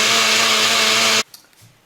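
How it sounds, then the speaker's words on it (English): A countertop blender whirs loudly at a steady high pitch, blending water kefir ice cubes with watermelon, then cuts off abruptly, leaving a few faint knocks and quiet. "I put that in the blender"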